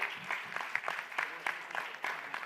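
An audience at a quiz contest applauds a team, a dense burst of many hands clapping nearby at a steady level with no talk.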